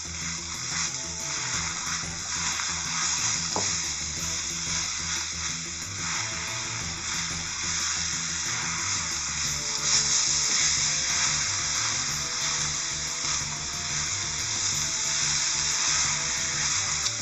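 Shredded cabbage and apples cooking in a pan over medium heat give off a soft, steady sizzle and hiss that runs the whole time with little change, and nobody speaks.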